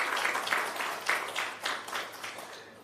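A conference audience at a national health research conference applauds, a faint, scattered patter of clapping at some distance with uneven swells, no talk over it.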